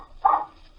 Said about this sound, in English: Barking his fool head off and scaring the ducks away.